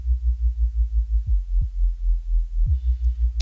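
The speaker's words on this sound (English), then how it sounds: "We just have a serum sine wave with a little bit of movement." Serum synth sine-wave bass with slight movement, a deep steady hum pulsing rhythmically about five times a second, alone and clean.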